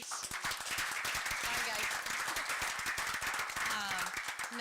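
Audience applause breaks out at a city council meeting, dense steady clapping for shelter staff throughout, with voices talking over it.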